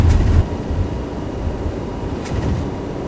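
An A321 airliner accelerating down the runway for takeoff in a flight simulator game, a continuous low engine roar and rumble with a slight swell near the end, no talking.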